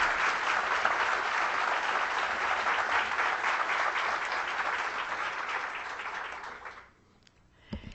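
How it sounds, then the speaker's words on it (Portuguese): Loud, sustained applause from a lecture audience fills most of the stretch, then fades quickly into near quiet. "Queria pedir uma salva de palmas"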